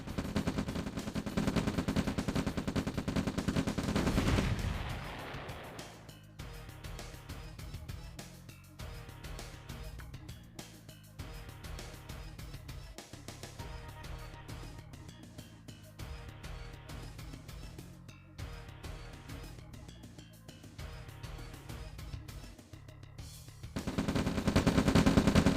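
Continuous gunfire from massed units in OpenRA Red Alert, rapid overlapping rattling shots of varying loudness in a busy battle, with heavier rumbling at the start and end.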